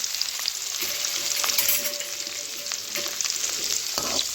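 Small shallots and green chillies sautéing in a pan for mango rice, a loud continuous sizzle and crackle with occasional stirring clinks, close by and without talk.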